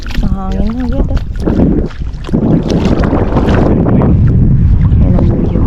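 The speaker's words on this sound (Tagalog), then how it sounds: "Mahangin na agad ah." Strong seaside wind buffets the microphone in a loud, continuous rumbling roar, with a person talking briefly over it at the start.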